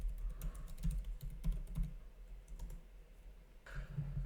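Fingers tap out a password on a computer keyboard in short, quiet bursts of clicks with brief pauses between them, close and fairly soft.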